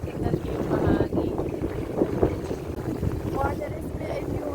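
Wind gusting on a high floor of a building in Singapore buffets the microphone with a rough, continuous rumble. Voices talk faintly beneath it.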